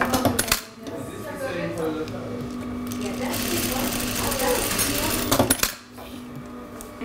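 An industrial sewing machine runs a continuous burst of rapid stitching through fabric while the thread tension is being adjusted. It starts and stops abruptly, close and fairly loud, with some voice in the background.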